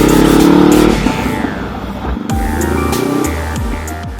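A Honda CB500X motorcycle rides through heavy city traffic in Shanghai, with a loud engine rev at the start, then a running engine note and passing traffic noise around it.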